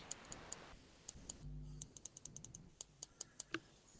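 Sharp, irregular clicks from the white and yellow parts of a Hachette Classic Routemaster model bus build, a dozen or so close, crisp ticks spread across a few seconds with a brief low hum in the middle and no talking.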